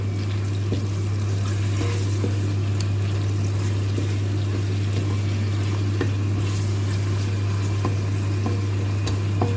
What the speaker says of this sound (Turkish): Şimdi kıymasını ilave ediyorum. Bununla da iyicene kavuruyorum.